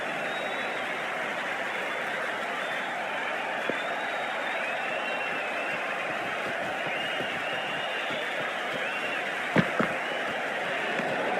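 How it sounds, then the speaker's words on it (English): Steady crowd applause and murmur fill a cricket ground during a Big Bash match between the Sydney Sixers and Northern Superchargers, a broad even roar from start to end with a couple of sharp knocks near the end. "they'll receive a warm reception from the crowd"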